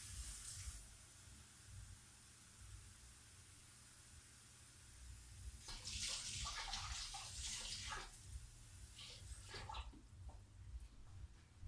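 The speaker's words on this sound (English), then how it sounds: "I'm going to rinse my mixer each time" Tap water runs and splashes while a soap-making stick blender is rinsed, a quiet steady hiss swelling into louder spattering bursts midway, heard alone with no talking.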